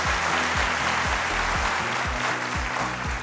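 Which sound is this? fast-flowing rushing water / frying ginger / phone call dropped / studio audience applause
studio audience applause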